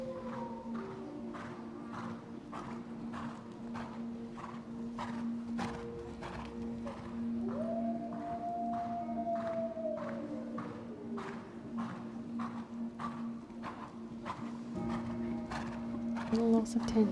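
A horse walks steadily during a junior squad freestyle vaulting routine at a world championship, soft regular hoofbeats under a steady hum and a commentator's voice.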